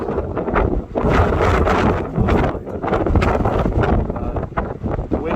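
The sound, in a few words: strong wind blowing across the water into the microphone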